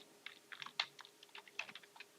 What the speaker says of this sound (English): now we're going to see Olympic style typing to try and get to the end